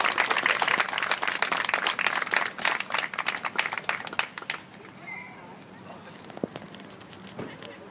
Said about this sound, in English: if you want to give them all a big round of applause